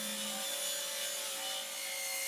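A saw cuts down a plywood piece from a 4x8 sheet to 8 inches, giving a steady, close, continuous cutting whine with a bright broadband rasp that holds evenly throughout.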